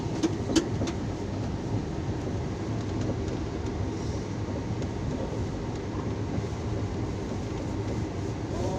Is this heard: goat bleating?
no